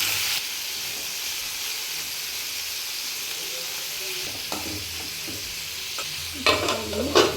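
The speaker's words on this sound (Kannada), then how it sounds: "ಚೆನ್ನಾಗಿ ಫ್ರೈ ಆಗಲಿ ಟೊಮೊಟೊ" Tomatoes frying in a pan for butter chicken masala, a continuous loud sizzle and hiss, with a few scraping stirs near the end.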